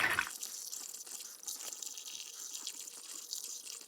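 Coolant pours steadily from a jug into the radiator of a 2015 Toyota Highlander, a continuous close splashing trickle that holds throughout with no talk.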